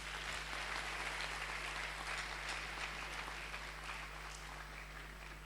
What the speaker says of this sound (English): Can we do the applause again,